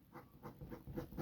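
A pencil moves across paper while making a technical drawing of a sectional view, producing faint, soft scratchy strokes in a quick uneven rhythm, close and quiet, with no voices.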